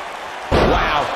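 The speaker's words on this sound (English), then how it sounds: "he just slammed him with ease" A heavy thud marks a wrestler's body slam at a WWE wrestling event, followed at once by a loud, sustained roar of crowd noise.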